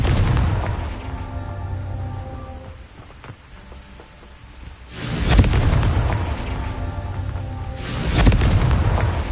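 In the Hogwarts Legacy video game, a Confringo blasting spell sets off heavy booming explosions with rumbling blasts that swell, fade, and then burst again loudly twice over a continuous roar of game sound, with no talking.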